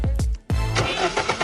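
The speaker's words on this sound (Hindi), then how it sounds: "उसने अपनी गाड़ी का गेट बंद किया और होटल पार्किंग से निकल गया।" A car at a hotel parking lot: two quick thumps of a door shutting, then the engine starts and revs as the car pulls away, loud and close.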